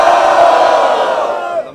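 A crowd at an outdoor rap battle in Barueri roars and cheers loudly and continuously for a couple of seconds, fading slightly at the end.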